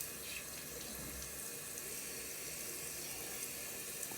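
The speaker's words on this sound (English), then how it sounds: "Okay, so I'm about to rinse my face." A bathroom tap pours steadily while a face is rinsed, a constant close hiss of running water with no talking.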